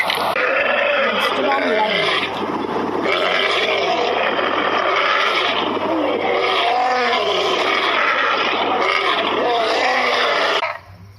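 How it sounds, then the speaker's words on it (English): An elephant calls loudly and steadily, a long run of rumbling, grunting and roaring layered with harsher trumpet-like tones, broken only by a brief dip near the middle before it cuts off at the end. "Children, observe the sound of elephant."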